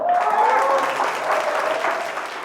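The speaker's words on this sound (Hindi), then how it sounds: "जोरदार तालियों से स्वागत कीजिए" An audience applauds to welcome a female singer onto the stage at a celebration, a steady wash of clapping that holds throughout and tapers slightly at the end, with a faint tonal line running beneath.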